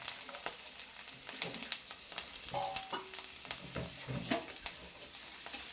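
Chopped ginger sizzling in hot oil in a pan on low heat, with a steady frying hiss and scattered scraping and clinking as it is stirred, no voices.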